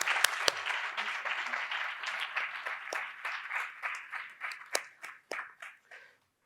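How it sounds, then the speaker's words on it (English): Applause from an audience at a book launch event, many hands clapping at first and then thinning out into scattered individual claps that fade and stop near the end. "I request everyone to please welcome him with a big round of applause."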